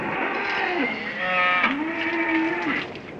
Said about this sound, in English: Cattle are getting restless.